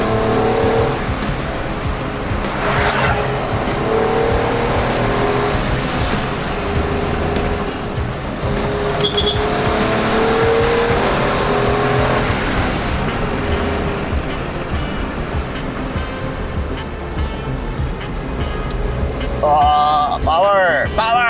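A 2024 Suzuki S Presso AGS with a 1-liter engine drives and accelerates on the road, its engine and road noise holding steady and close throughout while a voice talks over it.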